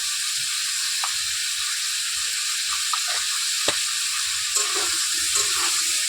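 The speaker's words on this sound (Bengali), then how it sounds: "আলুটাকে নেড়ে চেড়ে লাল লাল করে ভেজে নেবো" Potatoes sizzle steadily in hot oil in a pan while being stirred for tehari, with scattered soft scrapes and clicks over a continuous hiss and no talking.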